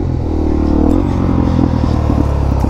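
A Suzuki DRZ400SM supermoto revs up for a wheelie. Its single-cylinder engine makes a loud, close, throbbing drone that swells about a second in and then holds steady, with no voices.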